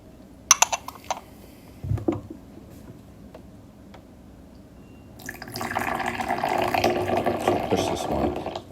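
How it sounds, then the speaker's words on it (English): Tea is poured from a height into a vessel, a steady trickling splash that starts after a few soft clinks and taps and runs continuously for several seconds, close and moderately loud. "so I'm doing a bit of that Denny high pour"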